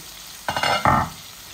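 Chicken kosha bhuna frying in a pan, two short close bursts of stirring and sizzle over a faint background hiss, no talking.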